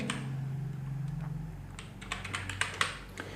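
Keys being pressed on a computer keyboard to enter a captcha code, starting with sparse taps and turning into a quicker, louder run of distinct clicks near the end, close up over a low hum.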